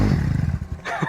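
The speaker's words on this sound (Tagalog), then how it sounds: "Lakas ng motor." A motorcycle engine roars loudly up a steep uphill section, a rough pulsing growl that drops away briefly before a burst of revving returns.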